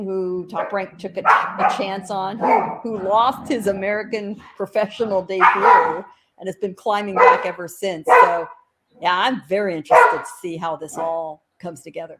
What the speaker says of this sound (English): And if you hear the barking in the background